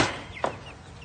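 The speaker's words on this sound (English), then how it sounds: "This the chicken right here" A chicken gives a single short squawking cluck amid rustling farmyard background noise, close and moderately loud, lasting only a moment.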